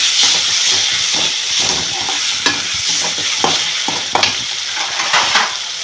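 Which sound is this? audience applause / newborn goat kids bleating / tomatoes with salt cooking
tomatoes with salt cooking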